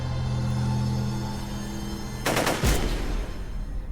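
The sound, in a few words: gunshots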